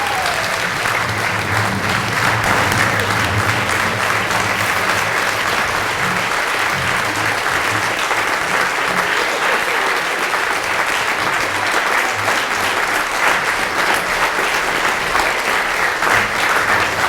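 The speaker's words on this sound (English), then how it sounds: "Yes, clap." Steady, enthusiastic applause from a seated audience at the Greater Fort Kent Area Chamber of Commerce annual meeting fills the room, dense and continuous with no break.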